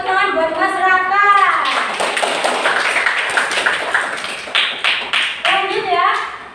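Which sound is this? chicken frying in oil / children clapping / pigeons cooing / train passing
children clapping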